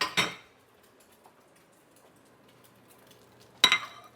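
A plate is handled near a carbon steel pan, giving a sharp clink at the start and another at the end with near silence between.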